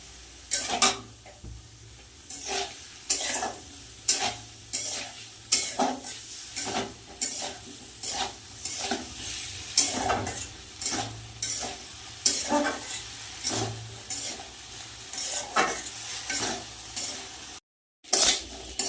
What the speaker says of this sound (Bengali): সব একসাথে ভাজা হয়ে গেছে ডালিয়া ফুলকপি আলু সব মশলা দিয়ে ভেজে নিয়েছি